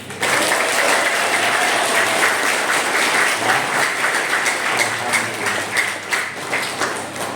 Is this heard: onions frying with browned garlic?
no